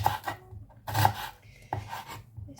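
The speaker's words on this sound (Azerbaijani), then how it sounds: "Soğanların hamısını doğrayım." Onions chopped on a board in a home kitchen, three knife strokes falling about 0.9 seconds apart, each a rasping cut, close and fairly loud with no talk.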